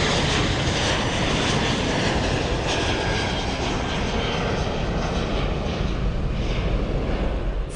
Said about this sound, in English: the huge aeroplane lifted off the runway into the air